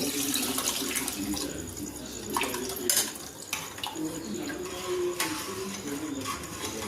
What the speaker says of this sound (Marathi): आता पाणी टाकी दे पाणी टाकी दे ना आता